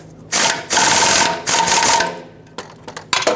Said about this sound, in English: let's tighten these up